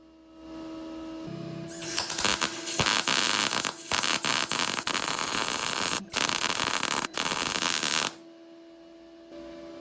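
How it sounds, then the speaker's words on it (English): A MIG welder set to 70 amps lays a bead onto thin sheet metal, a loud, harsh crackling buzz that starts abruptly, runs about six seconds with brief breaks, then cuts off back to a quiet electrical hum. "I'll turn on the gas and set the welder to 70 amps."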